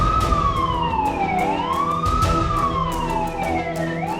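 A fire engine siren wails loud and close, its pitch sweeping up and down in repeated rising and falling cycles over a rumbling traffic background, with no voices.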